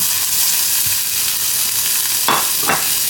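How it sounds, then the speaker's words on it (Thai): Sliced shallots sizzle steadily in hot oil in a pan, with a couple of soft stirring scrapes near the end. "ตั้งน้ำมันพอกระทะเริ่มร้อนนะให้ใส่หอมลงไปก่อนนะ"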